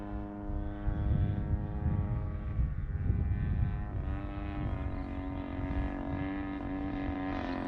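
A giant scale Seagull Models Zero RC warbird with an EME60 gas engine flies with full flaps, its propeller engine droning steadily and loudly throughout, with a rising, sustained tone and no talking.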